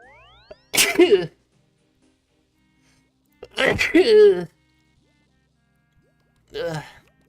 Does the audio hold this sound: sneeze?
yes